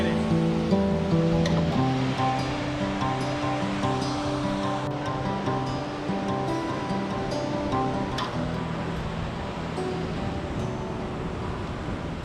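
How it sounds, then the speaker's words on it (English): A huge waterfall in the Rockies on the Rockwall trail roars as a continuous broadband rush of falling water, moderately loud and steady throughout. "coming from that humongous waterfall"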